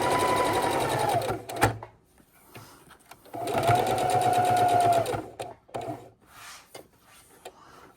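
A sewing machine stitches around the neckline of an adult bib in two sustained runs, with a pause and a brief burst of stitching between them and quieter handling clicks afterward.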